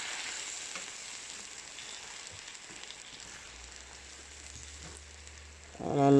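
Mushrooms and garden vegetables sizzle softly in a pan after cooking liquid goes in, a faint steady hiss with light stirring scrapes, ending in a louder burst of clatter.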